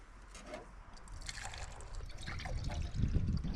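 Water pours in a thin, quiet trickle into a filter, its splashing and gurgling growing slightly fuller over a few seconds with no one speaking.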